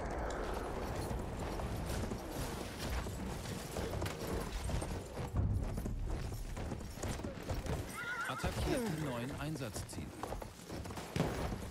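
A horse in the Battlefield 1 game snorts and neighs while hooves clip-clop rhythmically, set against battle ambience, with a person talking over the gameplay.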